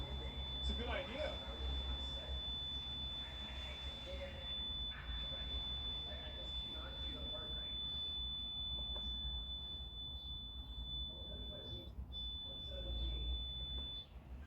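A steady high electronic tone like a smoke detector alarm sounds continuously for the whole stretch, thin and piercing, with a low rumbling background and faint talking underneath. It is unclear whether the tone is a real alarm or a voice imitating one.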